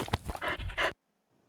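A dog pants rapidly in short, breathy bursts with a faint whine mixed in, close up, then it falls silent.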